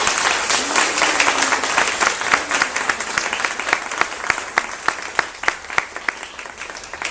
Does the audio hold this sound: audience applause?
yes